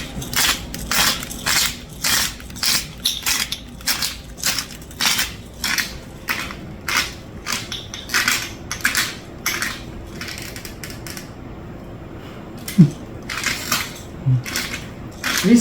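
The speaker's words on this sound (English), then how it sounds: "And some black pepper ground." A new pepper grinder cracks black pepper in a home kitchen, a long run of loud rhythmic crunching twists with short pauses between them, thinning out toward the end as a few softer kitchen clatters follow.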